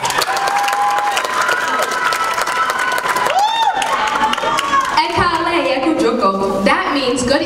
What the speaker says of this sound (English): Now give them a round of applause.